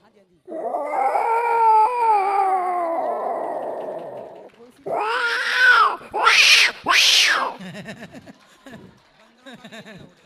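A voice imitates an angry cat attacking another cat: a long drawn-out yowl, then a burst of harsh hissing spits, followed by a few quieter growling sounds.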